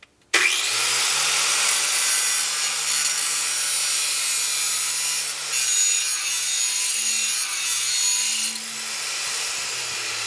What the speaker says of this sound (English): After much heavy adjustment and grinding, we have a fully clearanced alternator fan.